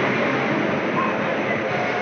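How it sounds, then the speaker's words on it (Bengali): The Kharagpur–Hatia Express rolls into a station platform with a steady, close rumble of wheels and carriage noise that stays even throughout. "সেই ট্রেন ঢুকছে 1 নম্বর প্ল্যাটফর্মে।"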